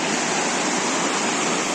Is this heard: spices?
no